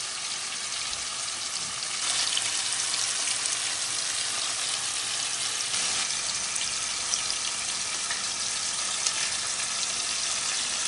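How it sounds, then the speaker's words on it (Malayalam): Fish deep frying in oil in a pan during traditional Kerala cooking, a steady dense sizzle and crackle that swells slightly after the first couple of seconds and continues unbroken, close and moderately loud, with no voices. "ഒരു 20 മിനിറ്റ് കൊണ്ട് നമ്മുടെ മീൻ ഫ്രൈ ആയിട്ട് വരും."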